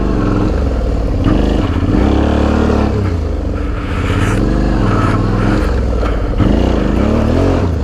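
A raised Suzuki V-Strom DL650 motorcycle engine revs up and down repeatedly during low-speed skid spin turns, close and loud, with rhythmic surges and dips in pitch and no talk.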